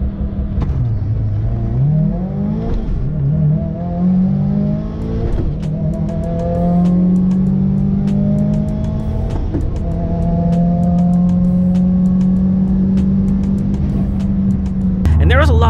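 A stock Subaru STI accelerates hard under turbo boost, its engine note climbing through several gears in rising sweeps with brief dips at each shift, loud and close from inside the cabin, with a voice talking over the engine.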